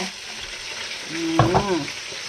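Vegetarian meat fries and gets stirred in a pan, giving a steady, fairly loud sizzle throughout, with a short tonal, voice-like sound rising briefly over it midway.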